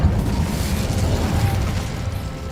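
An Incendio fire spell cast in Hogwarts Legacy gives a steady, roaring burst of flame, a dense crackling whoosh that holds at full strength for a couple of seconds.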